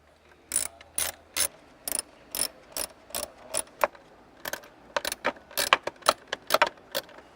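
A hand ratchet clicks in quick, close bursts while bolts are tightened on a 2015 Jeep Wrangler's PCM, about twenty sharp ratcheting strokes in an uneven rhythm.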